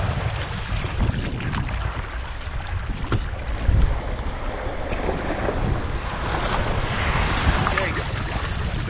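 Waves break and wash around an open canoe on one of the Great Lakes, a continuous rushing surf with gusting wind noise on the microphone, loud and close, with a brief louder surge near the middle.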